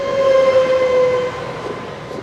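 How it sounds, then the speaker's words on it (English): A train on the Cinque Terre coastal line sounds a sustained horn over the loud rumble of its wheels on the rails, then the horn cuts off while the rolling continues. "Short 3-minute jaunt on a train to the next village."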